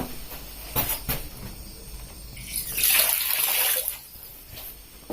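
Water running from taps at the toilet block along the Tamiajeng trail on Mount Penanggungan, a steady hissing flow that swells louder midway through before easing off, with no talk over it.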